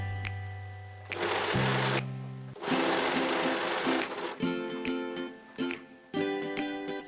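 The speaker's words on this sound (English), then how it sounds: "Sew along the head curve." A sewing machine stitches a hoodie's hood lining along the head curve in several short bursts of whirring with brief pauses between runs, close and clear.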